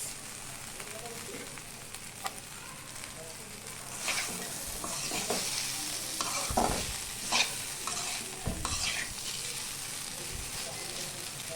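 Green chilies drop into oil in a pan while aubergine fries with five-spice, giving a soft, steady sizzle broken by several louder bursts of crackling and stirring scrapes, fairly quiet overall.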